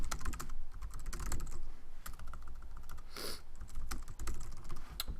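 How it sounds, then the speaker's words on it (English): Someone types on a computer keyboard, a close, steady patter of quick key clicks with brief pauses and a few heavier strokes, alone with no talk. "type anything about the video here"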